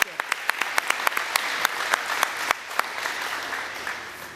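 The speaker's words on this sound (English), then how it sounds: "you deserve a round of applause because you guys are very effective" Applause at a National Honor Society induction ceremony for Cape Tech, a room of people clapping steadily with a few sharp, distinct claps standing out, then fading toward the end.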